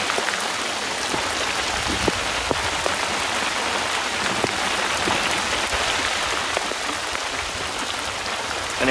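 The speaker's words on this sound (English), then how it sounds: "we're getting a bit of rain at the moment" A strong rain shower drums steadily on nearby surfaces, a dense, loud, unbroken patter with scattered sharper drops, heard alone for several seconds.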